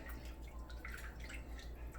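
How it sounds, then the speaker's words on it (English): Water is poured into a big soup pot while making Bahamian pea soup, giving a quiet, steady trickle with light dripping splashes over a low background hum for a couple of seconds. "So I'm adding 4 cups of water."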